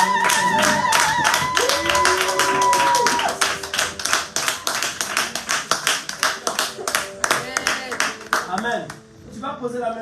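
A church congregation claps in acclamation, a dense run of hand claps that thins into scattered uneven claps toward the end, with voices and sustained tones from singing or music underneath.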